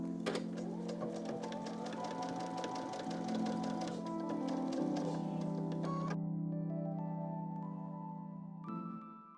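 A sewing machine stitches fabric for a quilt-as-you-go fan block, a steady close whirring run of rapid needle strokes that stops partway, leaving a quieter pause before a brief restart near the end.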